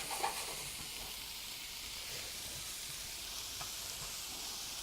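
Food caramelizing in a hot pan gives off a quiet, even sizzle and hiss, with faint stirring sounds now and then.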